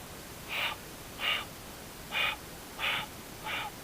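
A person imitates an unseen animal's heavy breathing in the Sierra Nevada forest, giving five short, evenly spaced huffs through the nose, close and alone.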